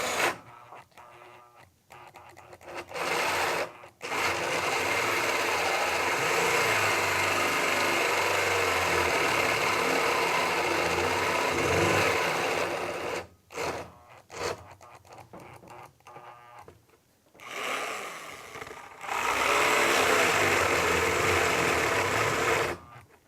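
A corded drill bores a series of holes, long sustained whirring runs lasting several seconds, broken by brief stops, loud and close.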